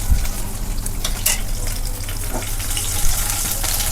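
Garlic sizzles steadily in hot oil until lightly browned, a loud continuous frying hiss with a few faint stirring clicks.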